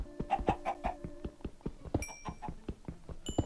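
Chicken clucks from the Minecraft video game sound as a busy run of short, repeated clucking bursts, mixed with chirpy tones and a few clicks, with no talk over them.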